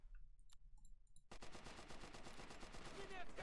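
Rapid machine gun fire in the war game Men of War: Assault Squad 2, a sustained loud burst of evenly spaced shots, with a few isolated bangs before it.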